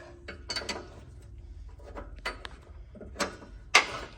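A socket wrench ratchets in short bursts on the upper ball joint of a 1963 Buick Electra 225, several brief clicking runs separated by pauses, close and fairly loud, ending in a sharper metallic clack.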